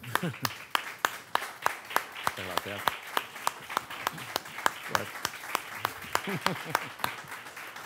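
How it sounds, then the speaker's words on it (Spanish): Sharp, sparse handclaps ring out at an award gala, sounding like a small audience of few people applauding at a brisk, fairly regular pace, with a voice speaking briefly over them. "Un aplauso."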